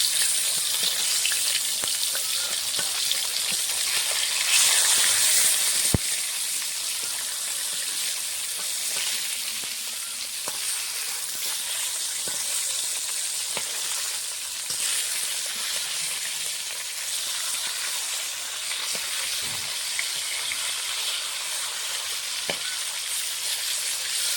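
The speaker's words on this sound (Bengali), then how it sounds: "মাছগুলো ভাজা হয়ে গেছে, লাল করে ভেজে নিয়েছি।" Pieces of catla fish fry in hot oil until reddish-brown, giving a continuous crackling sizzle at an even, moderate level with faint stirring clicks and no talk.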